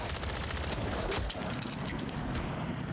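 Rapid automatic fire from an HRM9 submachine gun in Call of Duty MW3 Zombies, a dense, continuous rattle of shots. The bursts are loud and close, with booming impacts mixed in and no pauses.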